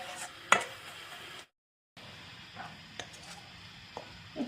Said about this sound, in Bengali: এই যে নারকেল চিনি ডাইরেক্ট লগে ভাজতে লইলাম